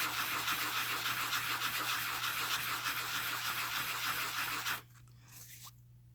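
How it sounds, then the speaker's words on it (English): Coarse sandpaper rubs back and forth over a small craft piece, a loud, dense, gritty scrubbing that runs steadily for nearly five seconds before stopping abruptly, leaving a low hum and a faint scrape. "This is a coarse sandpaper I'm using, just to kind of flatten that out a little bit."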